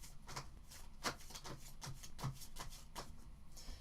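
A deck of playing cards being shuffled by hand, quiet riffling and soft slaps in a loose, uneven rhythm of short bursts, close and faint with no talking.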